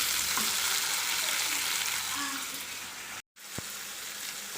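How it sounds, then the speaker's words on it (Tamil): Tomatoes and masala sauté in hot oil for a mutton gravy, a steady close sizzle with occasional stirring scrapes, briefly cutting out before resuming. "இதில் எண்ணெயில் நல்லா வதக்கி அப்புறமா நம்ம பேஸ்ட்டாக நல்லா இதை அரைச்சி எடுத்துக்கணும்."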